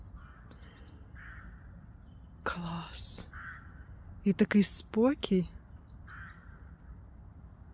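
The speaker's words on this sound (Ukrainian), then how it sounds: "така краса і пташок чутно" Birds call and crows caw faintly on a quiet autumn morning walk, with scattered distant chirps and a few short caws between soft spoken words.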